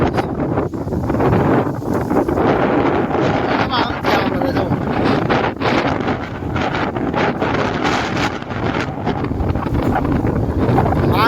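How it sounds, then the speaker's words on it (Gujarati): Strong storm wind roars loudly and continuously, buffeting the microphone with heavy rumbling gusts throughout. "આવાજ કરતા પવનનો આવતો છે"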